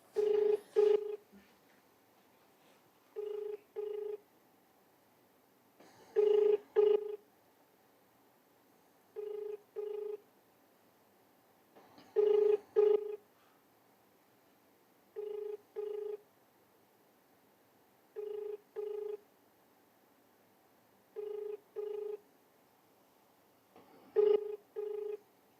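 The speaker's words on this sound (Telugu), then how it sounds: "లైవ్లోనే ఒకసారి ప్రతిమా సింగ్ కలెక్టర్ గారికి ఒకసారి కాల్ చేసే ప్రయత్నం చేద్దాం." A phone call placed to the district collector in Medak rings out in repeated paired ring bursts, a few seconds apart, clear and steady over a quiet background, with no voice answering.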